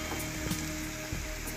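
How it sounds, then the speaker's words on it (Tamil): Onions sautéing in a pan give off a soft, continuous sizzle that stays faint and brief, with a few light stirring scrapes and no voices. "வெங்காயம் வதங்கிடுச்சு"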